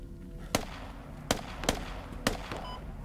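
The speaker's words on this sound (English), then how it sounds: "Shots on the hill." Gunfire in the military shooter game Squad: four sharp, fairly loud shots spaced irregularly over a few seconds, each a brief broadband crack, above a low rumbling ambient background.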